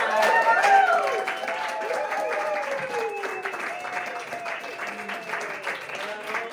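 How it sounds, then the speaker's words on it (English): Warm applause and cheering from a live show audience, a dense wash of clapping with whoops and shouts that stays steady and close throughout. "a warm round of applause for Stranger Than Facts!"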